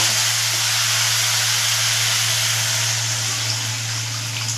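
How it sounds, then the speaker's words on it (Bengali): Water is poured into hot fried spice masala in a pan for a Bengali fish curry, giving a loud, steady steaming hiss that carries evenly through the whole stretch with no voices. "এবার আমি জল দিয়ে দেবো।"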